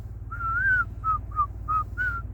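A person whistles a short tune alone, five clear bright phrases with a low steady hum beneath.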